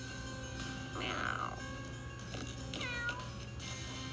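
A couple of soft, tonal cat meows from Toca Life World over a steady electronic hum, faint and a little synthetic in character.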